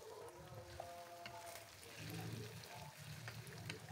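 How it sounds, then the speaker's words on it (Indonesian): Food frying in a pan while cooking in a home kitchen, a steady low crackling sizzle that holds throughout and swells slightly in the second half, with no talk. "Ini kita akan goreng sampai dua-duanya mateng atau sesuai selera ya."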